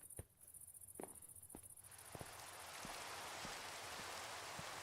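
Steady rain hisses through a video game world, starting thinner and swelling into a dense, continuous downpour, with scattered sharp taps and clicks dotted across it and no talking.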